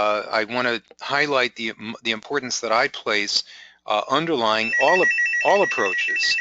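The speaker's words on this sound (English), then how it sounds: "That is my phone going off, another phone." A phone rings partway through, a repeating electronic trill that comes in over a man's steady lecture-style speech and continues alongside his talking to the end.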